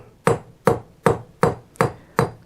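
Six evenly spaced hammer blows strike hot metal on an anvil during basic forging, each a sharp, close ringing impact with a brief decay, about two per second.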